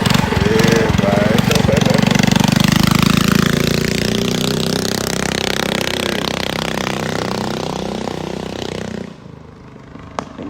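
A ported mini bike motorcycle engine roars loud and close, buzzing with a rough, steady drone that rises at first, holds for several seconds, then eases off and cuts away near the end.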